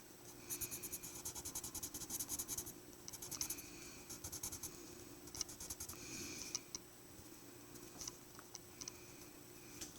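A King Art colored pencil rasps across paper during coloring, a close, quiet scratchy patter of quick strokes coming in bursts separated by brief pauses, with no voices.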